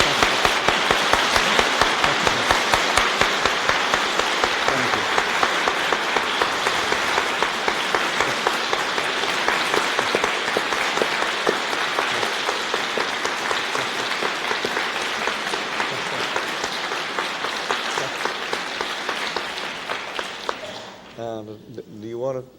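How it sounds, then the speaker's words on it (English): A large audience applauds warmly and steadily at a filmed literary conversation, the dense clapping holding for many seconds before tapering off abruptly near the end. "I think the applause says it very well."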